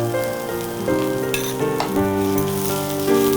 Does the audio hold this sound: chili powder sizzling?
yes